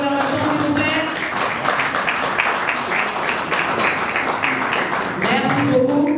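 Audience applause at a Congolese community gathering in France, a dense, continuous wash of clapping with voices talking and calling out over it throughout.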